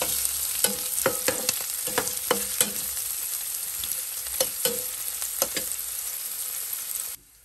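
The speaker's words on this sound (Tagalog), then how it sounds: "Ilagay natin yung hotdog para maprito na rin." Hotdog frying in a pan with onions throws off a steady, bright sizzle, broken by intermittent clicks and scrapes of stirring before it cuts off abruptly at the end.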